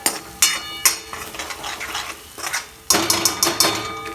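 Potato mixture with garlic and chili gravy being stirred in a pan, with repeated scraping strokes and clinks of a spoon against metal, coming in bursts with brief pauses, up close and without talk.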